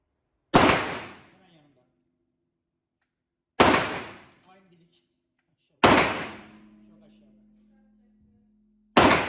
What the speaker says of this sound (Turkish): Evet atış var.